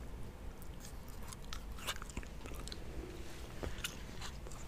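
Peppermint Cobalt gum chewed close to the mic, with soft wet clicks and crunchy bites over a faint steady hiss and no talking.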